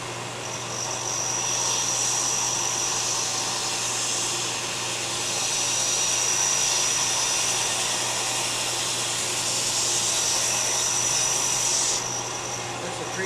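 A wood lathe spins a workpiece while a big gouge cuts it, giving a steady broadband rushing hiss with a faint high whine and a low hum. The tone is continuous and fairly loud, close by, with no clear breaks.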